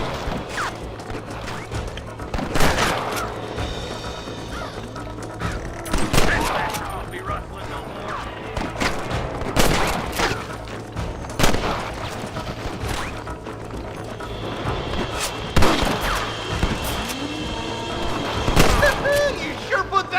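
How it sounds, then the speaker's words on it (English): A Red Dead Redemption shootout brings repeated bursts of gunfire, with sharp cracks and volleys spaced every few seconds, loud and close, over a low ambient hum with some game voices. "Good shooting, boy!"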